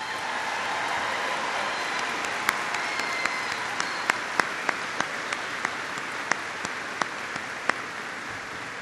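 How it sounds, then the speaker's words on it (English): A crowd at a presidential jobs bus tour event applauds, a loud, dense, sustained roar of clapping that carries on evenly with crisp individual claps popping through. "Give them a big round of applause."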